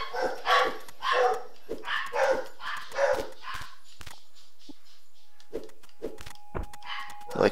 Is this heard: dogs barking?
yes